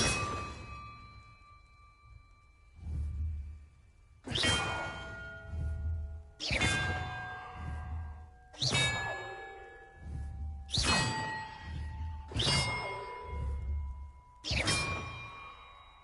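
Bells ringing in the video game Hogwarts Legacy: a series of about six separate metallic dings with long ringing tails, struck at uneven intervals with a soft low thud under each strike, fairly loud and with no talk.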